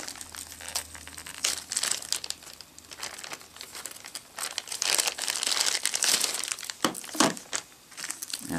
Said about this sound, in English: And let's pull it out of the bag.